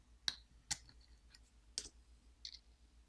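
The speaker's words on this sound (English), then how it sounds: "We're going to disconnect the battery cable." Battery cable connector being unclipped inside a Motorola Moto E7 phone during a teardown, a few sharp, close little clicks and snaps spaced irregularly in a quiet room.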